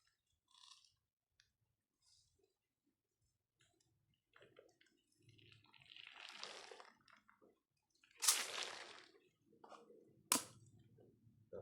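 Water poured onto freshly planted crops in a farm field, heard as a few scattered splashes and soft wet pours, with louder bursts near the end, close by and otherwise quiet.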